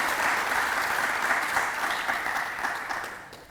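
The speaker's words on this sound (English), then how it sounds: "Please give a big round of applause for him." An audience applauds the guest speaker, filmmaker Vivek Agnihotri, at a talk session, with dense, sustained clapping that holds steady for the whole stretch.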